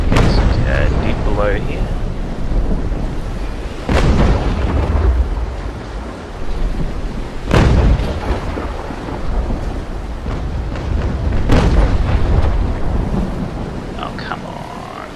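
Warship cannons fire in the Naval Action video game, giving three heavy, booming blasts spaced several seconds apart. Each rolls out over a rumbling background while someone talks between and over them.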